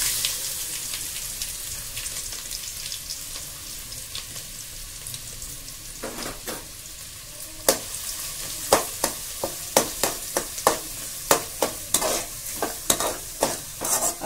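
Chopped onion fries steadily in a pan while being browned for a ladies finger and peanut fry, with a constant sizzle and a run of sharp, rhythmic spatula scrapes and taps growing more frequent toward the end.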